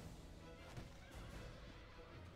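Horse neighing and whinnying amid hoofbeats and a dense battle din as a knight falls in Total War Medieval II, the cry partly masked by the loud, constant game noise.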